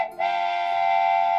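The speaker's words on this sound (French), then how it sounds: "Un rutilant train à vapeur apparut en sifflant." A steam train whistle blows as a long, loud, steady tone that starts after a brief quiet moment and holds to the end, alone with no talking.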